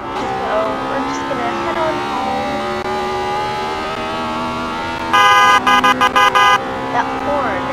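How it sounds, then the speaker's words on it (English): A 2018 Acura TLX A-Spec sounds its horn in a quick series of short, bright honks, five or six close taps in a row. Before the honks a person talks steadily over a low background hum. "That horn is like, to me it's not annoying."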